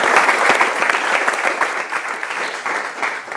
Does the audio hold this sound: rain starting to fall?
no